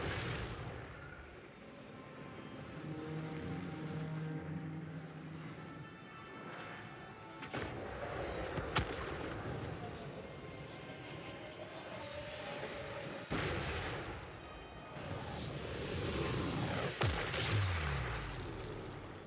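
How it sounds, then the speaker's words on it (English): Dreadquake artillery from Total War Warhammer 3 fires in repeated heavy booms with crashing impacts, loud and dense across a chaotic battlefield mix, with no speech. "it just gives me goosebumps every time they fire. There's not artillery like it."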